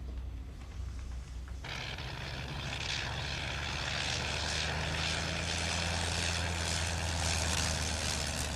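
A propeller plane's engine droning loudly and steadily as it runs out of fuel, a rising, continuous roar that dominates the scene.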